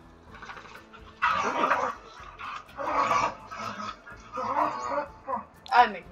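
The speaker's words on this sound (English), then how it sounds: "Ignore my dogs in the background." Several pet dogs bark, yip and whimper in a home, in uneven bursts of noisy yapping that come and go, with a person's voice mixed in among them.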